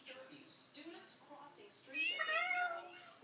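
A house cat meows in a quiet room, a few short cries followed by a louder, drawn-out meow near the end, close to the microphone.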